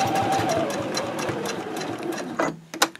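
Sewing machine stitching over webbing on a zipper case, a close, rapid, even mechanical hum and needle patter for over two seconds, then slowing and stopping with a couple of sharp knocks.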